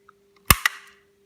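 Fuel filter locators on a Suzuki V-Strom 650 XT Gen 3 snap into place, giving a sharp close click followed quickly by a second, softer snap in otherwise quiet surroundings.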